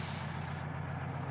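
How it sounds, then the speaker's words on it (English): Parking brake on a truck in Spintires MudRunner, a loud air hiss that cuts off abruptly partway through, leaving a low idling engine rumble. "Put the parking brake on."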